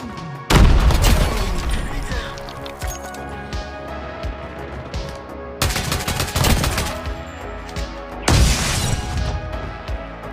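QQ9 assault rifle fire in COD Mobile multiplayer, fitted with an extended magazine, three loud, sustained automatic bursts separated by short gaps, with no talking over them.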